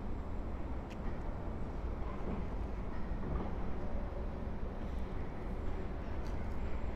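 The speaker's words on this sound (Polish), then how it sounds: "Nadjeżdża pociąg Intercity San z Warszawy Wschodniej do Przemyśla Głównego." Intercity San passenger train pulling into Warszawa Zachodnia station after dark, a steady loud rumble of wheels and rolling stock filling the whole stretch without letup.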